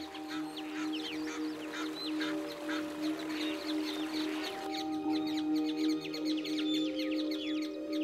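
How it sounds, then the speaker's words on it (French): Several yellow-billed ducks quacking in quick, overlapping bursts, with wagtails and other small birds chirping and twittering around them in a busy outdoor scene in Africa. "Des hoche-queues au canard à bec jaune."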